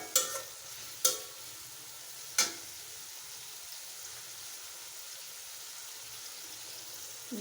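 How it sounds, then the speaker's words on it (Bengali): Shrimp frying in a pan for a cucumber-and-shrimp curry, a soft steady sizzle at moderate distance, punctuated by three sharp clinks or pops in the first few seconds, then an even hiss. "চিংড়ি মাছটা ভেজে নেব।"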